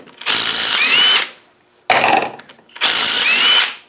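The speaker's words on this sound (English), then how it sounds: "Get the cover bolts off." Bolts on the cover of an Adwest steering box from a Ford TDCi are undone with a power tool, making three loud whirring bursts with short pauses between them, close up and with no talk.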